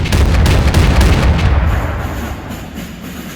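Artillery fire in the Empires of Europe game mod for the 1700 era: a heavy, loud boom with a low rumbling blast at the start that rolls on and fades slowly over several seconds.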